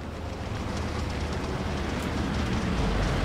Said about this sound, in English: Oh, tanks are here.